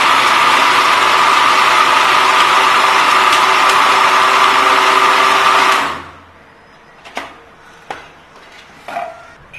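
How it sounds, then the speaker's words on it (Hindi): A kitchen grinder blends plum (alubukhara) pulp with a loud, steady whirring roar for about six seconds, then cuts off abruptly, leaving a few light clinks and knocks in the quiet. "आलू बुखारे के पल्प को भी ग्राइंड कर लूंगी।"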